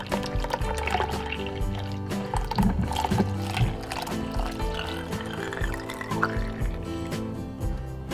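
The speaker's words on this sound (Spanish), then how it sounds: "vamos a colocarle 5 tazas de leche fría" Cold milk pours into a cherry gelatin mixture, making a continuous splashing, gurgling flow that stays fairly loud and busy for several seconds.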